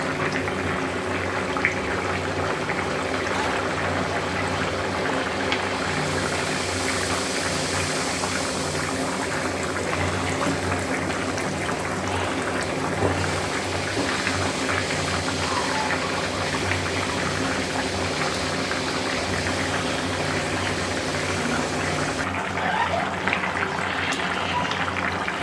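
A pot of ghugni, curried dried peas, simmers steadily with a continuous bubbling hiss that holds at an even, fairly loud level throughout, with no talking over it.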